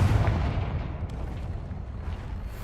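The Confringo explosive spell is cast in a Harry Potter video game, giving a loud, close burst of booming, crackling blast noise that rolls off into a rumbling tail, with no speech over it.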